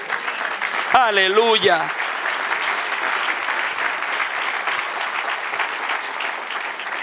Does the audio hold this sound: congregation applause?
yes